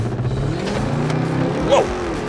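A race-prepped Dodge Durango SRT Hellcat launches from a standstill, its engine a loud, close, rising roar that climbs in pitch through the short burst of hard acceleration.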